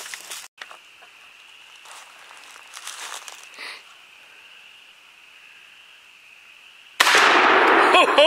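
A single loud, abrupt blast from a shotgun firing a Winchester turkey load, a Remington 870 or Winchester SXP, outdoors, arriving near the end after a quiet stretch with a faint steady tone.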